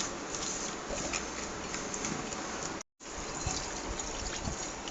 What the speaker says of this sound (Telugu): వాటర్ కూడా పోసేస్తున్నాం అన్నమాట ఫ్రెండ్స్ చూడండి ఫ్రెండ్స్